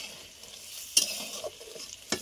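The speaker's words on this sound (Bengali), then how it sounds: "তো চলো পটলটা ভালো করে এখনও ভাজতে হবে, ভাজা হয়নি" Pointed gourd fries in a pan with a faint, low sizzle broken by a couple of sharp stirring knocks, quiet and close with no talk.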